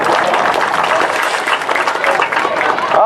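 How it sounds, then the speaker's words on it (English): A crowd at an outdoor recreation opening day ceremony claps loudly and continuously, a dense, even wash of applause filling the whole short stretch. "Let's give my folks a round of applause."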